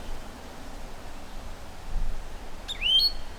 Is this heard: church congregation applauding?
no